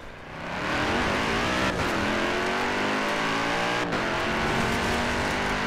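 Car engine racing in Forza Horizon 4, a steady loud roar that climbs through revs with two brief gear-shift dips, close and continuous with no talk.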